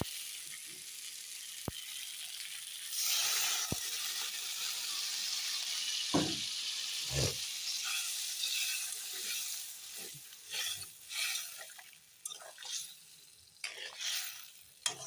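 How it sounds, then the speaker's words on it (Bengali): Spice paste frying in a pan hisses and sizzles steadily as water is poured in, with a few sharp clicks and stirring scrapes over the bubbling. "জল দিয়ে দেখো সব মশলা কষিয়ে নিয়েছি এখন আমি হালকা জল দিই"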